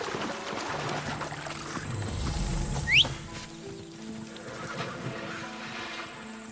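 A horse in Assassin's Creed Odyssey whinnies briefly midway over soft clip-clopping and deep-water ambience, with no talking.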